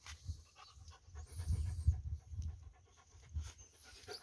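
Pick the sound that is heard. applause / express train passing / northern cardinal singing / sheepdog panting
sheepdog panting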